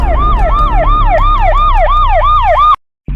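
A loud wailing alarm siren in a drama scene, rapid repeating up-and-down sweeps sounding close and continuous before cutting off abruptly near the end.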